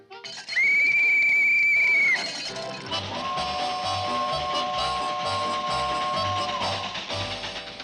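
A loud, sustained train whistle blows, then a second, lower whistle tone holds for several seconds over a rumbling background.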